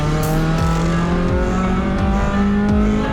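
A silver and blue race car at Mallala roars by in a loud, close burst of high revving, with engine pitch sweeping and shifting several times over a few seconds.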